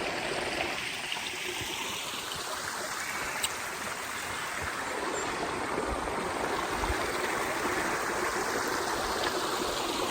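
Little Murray Creek flowing at a campground, a steady close rush of running stream water with a constant broad babble and no talk.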